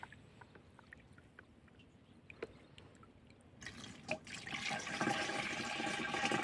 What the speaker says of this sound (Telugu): ఇప్పుడు మనం ఖాళీ ట్యాంక్లో ఇలా పోసుకోవాలి